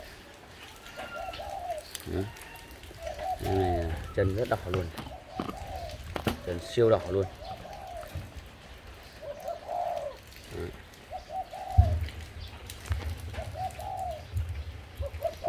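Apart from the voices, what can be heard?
turtle dove cooing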